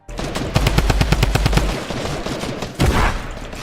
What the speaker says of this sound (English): He kept shooting him with the AR